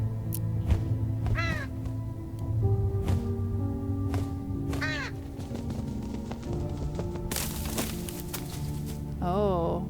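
A crow caws several times inside the horror video game True Fear: Forsaken Souls 3, its harsh calls spaced apart over a low, eerie ambient drone.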